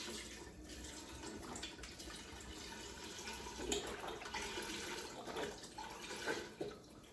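Beef broth is poured into an Instant Pot for stew, a steady low liquid splash and gurgle running throughout, fairly quiet with a few brief louder surges.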